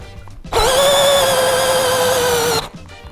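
A Dnipro-M CD-218 cordless screwdriver drives a screw with a loud, close, steady high motor whine lasting about two seconds, starting and stopping abruptly, with quieter handling noise before and after.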